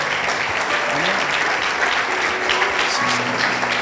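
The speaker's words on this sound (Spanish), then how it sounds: "dale ese aplauso al Señor" A church congregation claps steadily in sustained, dense applause filling the hall, with a pastor's voice and faint music carrying underneath.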